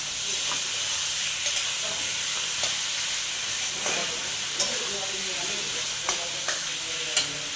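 Potatoes frying in oil for a soybean egg curry, with a steady loud sizzle and hiss as a spoon stirs through the pan, giving scattered scraping knocks against the metal, close up.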